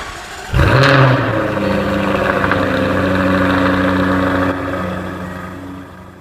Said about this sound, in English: let's get into the car, start it up, and see how it sounds